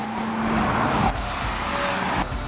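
A Volkswagen Golf GTI, 40 Years edition, is driven hard on a track, with loud close engine roar, shifting pitch as it accelerates, and a brief tire squeal as it corners.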